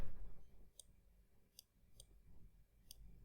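Sharp, light computer mouse clicks while a video is positioned on a Google Slides page, four isolated taps spaced irregularly over a quiet background.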